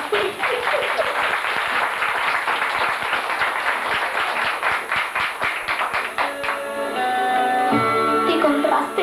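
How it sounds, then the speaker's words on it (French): A gathering in Jodoigne's Quartier-Sud applauds, a dense patter of many hands clapping close by. Voices chatter over it, and toward the end the clapping gives way to a tonal, musical sound. "Ah ben je crois qu'on peut l'applaudir"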